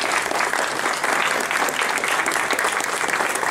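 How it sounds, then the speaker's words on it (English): A church congregation gives a warm, sustained round of applause for first-time visitors, dense and even throughout, filling the room without pause. "Would you please stand up so we can give you a round of applause and welcome you here?"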